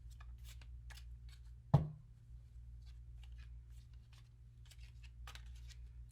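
Playing cards shuffled by hand in a quiet room: soft repeated riffling flutters, one sharp tap of the deck, then more light shuffling bursts toward the end.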